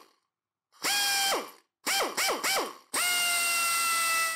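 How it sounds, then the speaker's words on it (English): A commercial pneumatic vane-motor drill runs on compressed air from a 24-litre tank, spinning up in short bursts with rising whines, then holding a steady high-pitched whir at close range. "I then thought I should test a commercial pneumatic drill, as this also uses a vane motor and should be a more perfected design."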